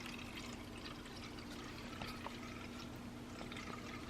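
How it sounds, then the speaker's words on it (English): A pet water fountain gives a soft, steady trickle of water, quiet and continuous throughout, with a faint hum beneath and no voices. "She loves her water fountain so much."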